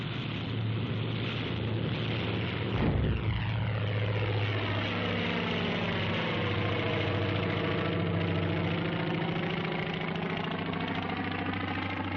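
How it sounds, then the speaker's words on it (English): A 1944 Navy aircraft takes off from a carrier flight deck, its propeller engine roaring steadily, then passing close and sliding downward in pitch as it goes by, leaving a sustained engine drone behind. "Aircraft leave the flight decks during extensive attacks that softened up the Central Pacific targets"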